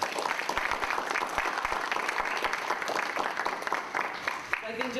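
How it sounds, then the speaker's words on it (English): Audience applause for a departing guest at a Hawaii Future Caucus event, a dense steady patter of many hands clapping throughout, fairly close, with a voice briefly heard near the end. "Let's give him a round of applause."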